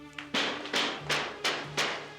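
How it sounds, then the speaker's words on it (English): Heavy knocking on a door in a classic Indian TV serial: five loud, evenly spaced thuds in a steady rhythm, close and prominent, with no talk over them. "Who could that be banging like that on the door?"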